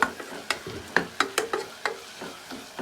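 Chili powder frying in a pan of mutton and drumstick curry while being stirred, with soft sizzling under repeated scraping spoon strokes against the pan at an even, unhurried pace, close and quiet.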